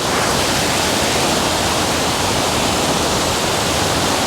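A waterfall in a river pours in a loud, dense, unbroken roar of rushing water, steady and close throughout with no voices.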